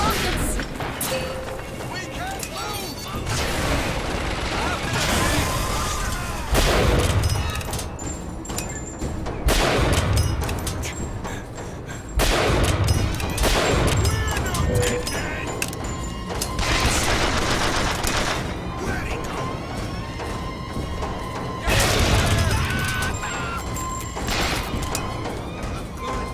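Rocket blasts and gunfire in the shooter BioShock Infinite, loud and dense, with repeated booming bursts roughly every few seconds over continuous firing and clatter, and voices mixed in.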